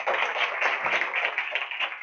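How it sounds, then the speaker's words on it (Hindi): Steady applause from a crowd, a dense wash of clapping hands that holds evenly for a couple of seconds with no voices over it. "तालियां।"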